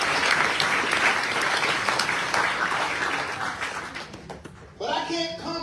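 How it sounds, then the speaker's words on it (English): A crowd at a Maine gathering on fairness in women's sports breaks into loud, sustained applause that gradually thins out, then a voice begins speaking near the end. "And a big hand clap goes right there."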